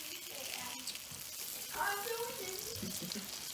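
Big fillet pieces of fish fry in a pan with a close, steady crackling sizzle, a spatula scraping and pressing briefly partway through; faint quiet room tone underneath.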